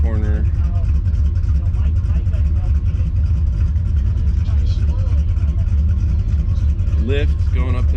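A 1969 Chevrolet Camaro's V8 engine roars steadily at high revs through a Cal Club autocross run, loud and close throughout, with a brief rise in pitch as the driver accelerates near the end.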